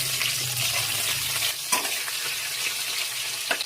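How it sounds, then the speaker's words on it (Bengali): Onion fries with spices in a pan for a mutton curry, a steady close sizzle with faint stirring scrapes and a couple of soft clinks, with no voices. "এটা পেঁয়াজটা একটু ভাজা ভাজা হলে আমি বাদ বাকি মশলাটা দেবো"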